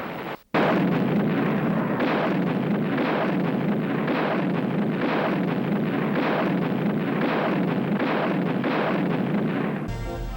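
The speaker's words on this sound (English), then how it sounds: "With a little added elevation, a tank's rifle could be darned good artillery" Tank guns fire as artillery in the Korean War, a dense, continuous barrage of booming blasts in a steady pulsing rhythm, loud and rough as on an old recording.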